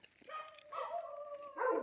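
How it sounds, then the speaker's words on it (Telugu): Village dogs on a road make a few yelping barks and whimpers, heard at moderate distance over a quiet background with no talking. "ఈ ఊర్లోనే కుక్కలు ఊర కుక్కలు గోల"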